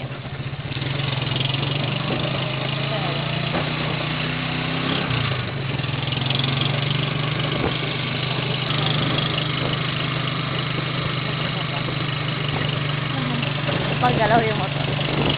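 Motorcycle engine running at a steady idle, a continuous mid-pitched hum and rumble held close and even for the whole stretch, with faint talk underneath.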